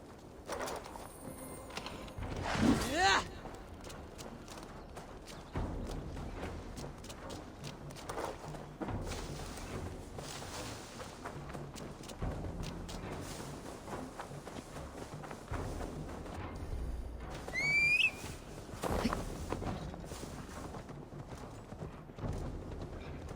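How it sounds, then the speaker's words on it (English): Horse hooves clip-clop steadily in Assassin's Creed Valhalla as the horse walks, a continuous moderate patter under game ambience with a couple of brief whooshing effects. "Now to deliver Magni his horse."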